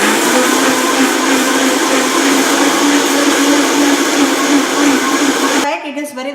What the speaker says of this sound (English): Okay, now I'm just going to go ahead and blend it on high speed.